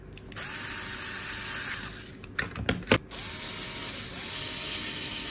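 Electric screwdriver driving screws into a Xiaomi portable electric air compressor during repair, with a steady mechanical whir and a few brief ratcheting bursts mid-way, close and fairly quiet, no voices.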